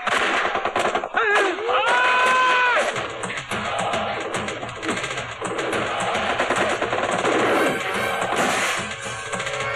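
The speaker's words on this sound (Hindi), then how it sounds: "अरे शोर नहीं, मशीन गन है, मशीन गन।" Machine-gun fire in a Hindi film action scene: dense, loud bursts of rapid shots with crashes and impacts running almost the whole time, a brief whistling whine early on, and no clear talk over the chaos.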